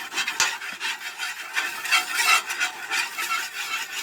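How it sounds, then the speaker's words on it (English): A metal scraper works across a Blackstone flat-top griddle while cooking Japanese fried rice, giving steady, close scraping and rasping strokes with faint sizzling underneath and no talk. "A little bit of scrape on the Blackstone."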